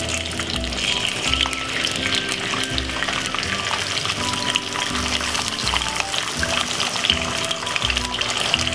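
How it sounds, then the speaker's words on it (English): Pieces of bacon fry in hot oil in a pan, a close, continuous crackling sizzle with scattered pops, steady and moderately loud throughout. "simple pop in a piece of bacon like this. Now the oil is starting to get hot"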